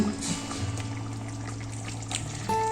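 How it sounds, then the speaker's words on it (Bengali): Raw mustard oil pours over a rohu fish and poppy seed curry in a pan, a continuous close trickle over a low steady kitchen hum. "সব শেষে ওপর দিয়ে দিচ্ছি কাঁচা সর্ষের তেল।"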